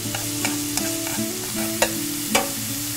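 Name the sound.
lemongrass frying in oil in a pan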